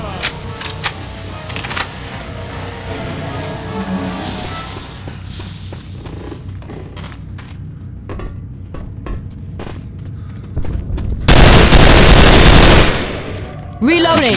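Rapid gunfire rattles through a Left 4 Dead 2 firefight in the Parish, steady bursts throughout, then a loud sustained blast of fire near the end, with brief voices in the background.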